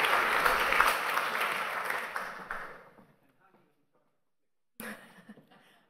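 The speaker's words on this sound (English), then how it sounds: "So give her a big round of applause so we can start." An audience at an inaugural event for a university UNESCO chair in data science and AI gives warm applause that fades out over about three seconds, followed by silence and then a brief noise.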